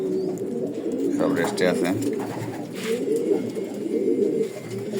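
Stock pigeons in a loft coo in soft, rolling calls under someone speaking Bengali nearby, with low bird murmurs running throughout.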